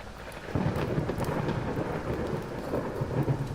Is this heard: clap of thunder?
yes